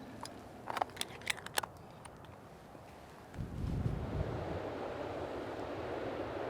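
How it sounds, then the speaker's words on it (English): Turbulent river water at Lucky Peak rushes in a steady, broad roar that starts suddenly partway through and continues loud and unbroken, after a few sharp clicks and outdoor ambience. "Now let's go take a picture of some turbulent water."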